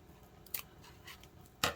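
Scissors snip off a slider pull tab tag, two short crisp cuts close by in a quiet room.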